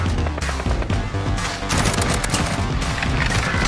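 Rapid gunfire bursts from Call of Duty: Modern Warfare multiplayer, loud and close, with sharp overlapping shots and cracks filling a dense, chaotic firefight.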